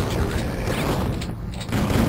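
Gunfire in the shooter game Duke Nukem 3D, a dense burst of shots and booming blasts running nearly the whole time, loud and steady with a brief dip near the middle.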